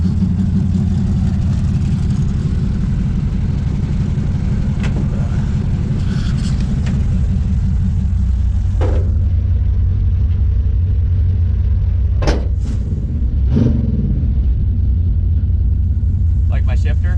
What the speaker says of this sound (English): Love the way that exhaust sounds.